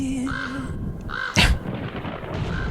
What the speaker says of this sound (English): The random crow.